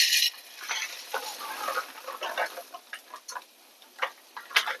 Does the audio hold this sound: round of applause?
no